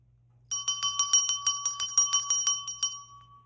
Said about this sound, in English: Now I know why I brought that bell in.